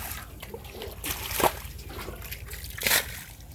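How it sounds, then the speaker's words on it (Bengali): Floodwater being bailed out of a waterlogged chili field, heard as soft sloshing and a couple of splashes as water is tipped out, fairly close, over a low steady background with no talk. "পানি ছেঁকা হচ্ছে, হ্যাঁ হচ্ছে।"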